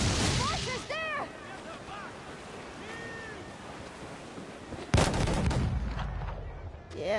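Naval cannon volleys from sailing ships in Assassin's Creed Black Flag boom loudly over crashing waves and wind, with a big blast near the end, while crew voices shout beneath.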